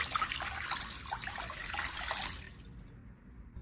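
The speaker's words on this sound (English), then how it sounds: "Add water to a pot." Water poured into a cooking pot before steaming peanuts, a bright splashing trickle for about two and a half seconds that then stops, leaving quiet room tone.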